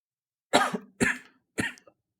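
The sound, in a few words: cough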